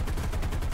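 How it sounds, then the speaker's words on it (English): AI gunners in War Thunder open up with machine guns, a rapid, steady stream of loud, close automatic gunfire rattling without pause. "Unless, of course, you have AI gunners and you hear them opening up on him."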